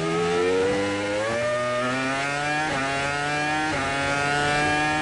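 A 2006 Formula 1 car screams through its gears at Imola, the steady high-pitched engine note climbing in pitch and dropping briefly at each upshift, loud and continuous from an onboard position.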